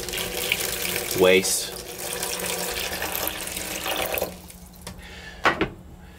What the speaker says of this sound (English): I'll pour this water in there to represent